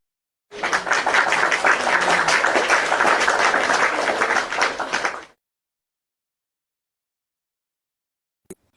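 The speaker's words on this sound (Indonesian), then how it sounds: "Tepuk tangan, Nor." Audience applause at a debate gathering, a dense burst of clapping that starts abruptly, holds steady for about five seconds and then cuts off, followed by silence and one sharp knock.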